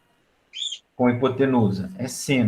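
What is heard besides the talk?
bird singing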